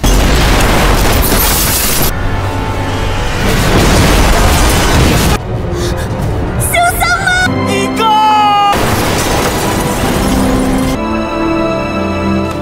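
Loud booming blasts and bursts of noise with crackling debris from a road-crash explosion in an action film, broken by short gaps and tonal passages, like a dramatic action sequence.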